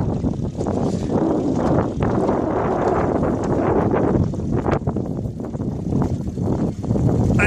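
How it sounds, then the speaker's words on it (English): Blustery wind buffets the microphone continuously while trolling from a boat on Lough Currane near Waterville, a loud, steady broadband roar with gusty swells and no talk. "It's kind of very blustery."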